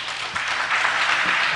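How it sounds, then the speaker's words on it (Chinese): Conference attendees at a PHP developer talk clap together after a speaker introduction, a steady, moderately loud patter of applause throughout. "请大家掌声鼓励。"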